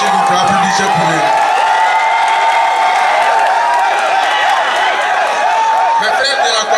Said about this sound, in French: Camarades, s'il vous plaît, applaudissez pour eux.